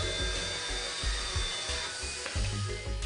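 Bosch AdvancedCut 50 saw making a miter cut with its base plate turned to 45 degrees: a steady buzzing motor with rapid rhythmic rasping strokes through the material, close and continuous.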